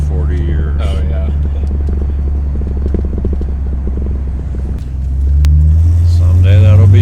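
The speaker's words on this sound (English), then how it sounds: "Hear that rattle? Been driving me nuts for 40 years." A 1978 Corvette is driven along with a loud, steady, low engine rumble and a fine, continuous rattle riding over it. The engine note swells near the end, and voices talk over the drive.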